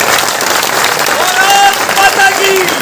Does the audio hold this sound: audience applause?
yes